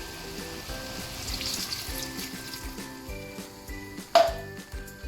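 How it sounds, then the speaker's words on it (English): Water poured into a cooking pot of simmering chicken gizzards, a soft continuous pouring and trickling with a brief louder splash near the end, heard over a steady background hum. "And I'm going to add some more water."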